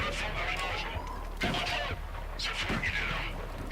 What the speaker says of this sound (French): Des coups de feu, je suis là.